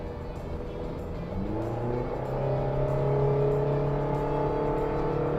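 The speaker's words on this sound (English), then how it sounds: "can you hear that revving?" A Honda Amaze engine revs as the car pulls away slowly from near standstill, a steady whirring drone climbing gradually in pitch and loudness, heard from inside without talk.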